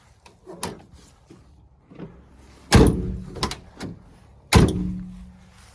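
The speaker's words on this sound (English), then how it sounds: "the door is operational, the latch is operational" The rear side window latch and door of a 1979 Toyota Land Cruiser FJ40 give several light clicks and rattles, then two heavy metallic slams a couple of seconds apart, close and distinct.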